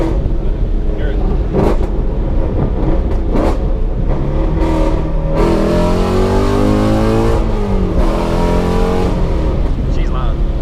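A manual Ford Mustang 5.0 with an X-pipe and muffler-delete exhaust revs hard and loud up close, the engine note climbing and falling through several sweeps while people talk over it.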